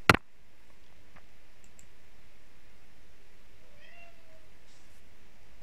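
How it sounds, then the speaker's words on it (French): A pet cat gives a soft, brief meow partway through, close but quiet, following a sharp click at the start over a low, quiet room background. "mon chat qui dit bonjour"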